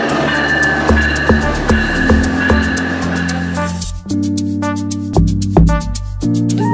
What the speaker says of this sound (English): Wait, train coming?